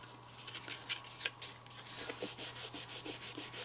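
Paper being folded over and smoothed down by hand for a craft pop-up confetti box, heard as a run of soft scraping strokes that turn into a steady rhythmic series of about a dozen close, even swipes.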